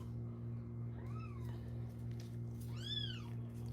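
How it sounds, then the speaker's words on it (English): Two cats meow in turn, a short mew followed by a louder, drawn-out one, over a steady low electrical hum. "You hear the little kitties?"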